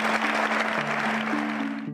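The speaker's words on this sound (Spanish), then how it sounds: "se merece un aplauso." A studio audience at the close of a Paraguayan Teletón telethon breaks into loud, sustained applause, dense clapping filling the whole moment with a steady tone beneath it.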